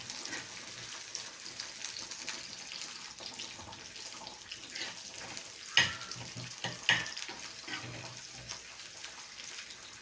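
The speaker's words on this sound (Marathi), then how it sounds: "कांदा सारखा थोडा परतत राहायचा" Onion sautéing in a pan, a soft continuous frying hiss with a couple of sharper clinks of a spoon on the pan, faint and alone without speech.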